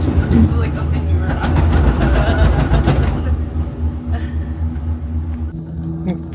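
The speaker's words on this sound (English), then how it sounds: "Fixing the train down there." A train rumbles close by in the rainforest near Kuranda, Australia, a loud, dense low roar that fades after a few seconds, with voices talking over it.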